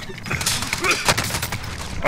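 Dense, rapid gunfire from the video game Call of Duty: Modern Warfare, a continuous crackle of overlapping shots that fills the short stretch, loud and close, with a voice faintly mixed in.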